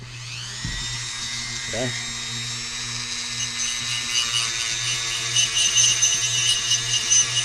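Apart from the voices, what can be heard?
grinding RC boat propeller with coarse sandpaper on power tool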